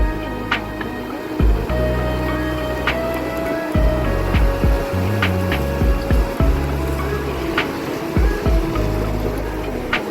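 Rough surf rolls onto the shore in Camarines Norte after Typhoon Ramil, a continuous low wash and rumble of waves with uneven surges and bursts of wind noise, loud and close throughout.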